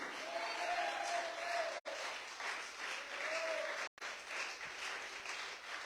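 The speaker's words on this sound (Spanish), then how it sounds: "ese aplauso es para Cristo Jesús" Sustained applause from a church congregation during a pastor's sermon, a dense steady wash of clapping that fills the room, briefly cut off twice by short dropouts.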